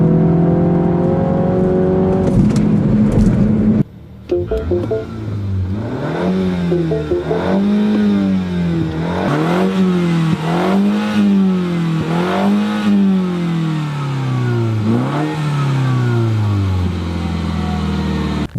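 A 2015 Mini Cooper S four-door hardtop with a turbocharged 2-liter engine pulls hard on a track, revs climbing and dropping repeatedly through gear changes after a brief cut, the engine note close and continuous throughout.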